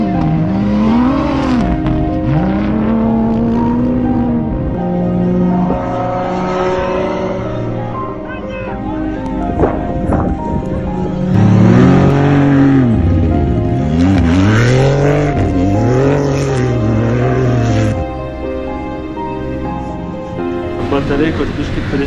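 A Dakar Rally car drives across desert sand, its engine revving up and down in repeated rising and falling sweeps, loud and close, with people talking over it.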